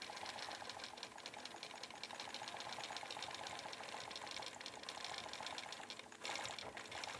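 A sewing machine quilts around embroidery with a steady, fast, even stitching hum close by, holding its rhythm almost throughout and shifting briefly near the end, with no talking.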